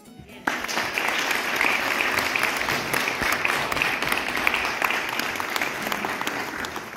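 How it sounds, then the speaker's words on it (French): Sustained audience applause at a comic book presentation event about Lumumba, dense steady clapping that starts abruptly after a quiet moment and continues evenly to the end. "Encore une fois, s'il vous plaît, sous vos applaudissements, Monsieur Kitoko."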